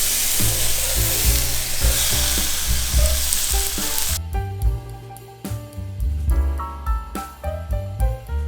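Roughly chopped Spanish white onions sear in a hot pan with a steady, loud sizzle, then a stirring scrape and clatter of utensils takes over partway through, close and continuous.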